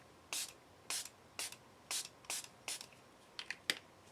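Short bursts from a spray bottle misting yellow color onto paper, about eight separate puffs in a steady rhythm, the last few coming quicker, close and fairly quiet with no talk.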